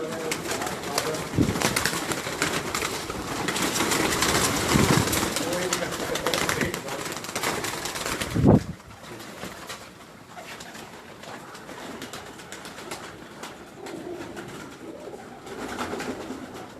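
Pigeons belonging to Chaudhry Sakhi Mohammad Bhatti coo in soft, low, repeated calls amid a busy outdoor background, with a sudden thump partway through and quieter cooing afterward.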